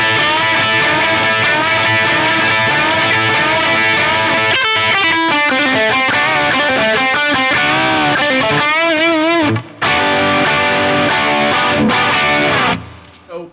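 A distorted electric guitar plays a song's solo, moving from sustained chugging into bent, wavering lead notes, loud and close, with a brief dropout near the end and no voices.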